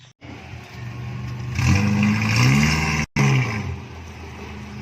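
Toy off-road Jeep engine revving with a growling, roaring tone that climbs and surges midway, cuts out briefly, then returns, moderately loud with no voices.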